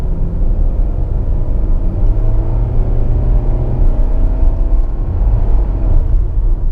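A 2022 Mitsubishi Outlander's non-turbo 2.5-liter four-cylinder engine labors up a steep Vancouver hill, a loud, steady droning rumble with rising engine whine, close and continuous throughout with no talk.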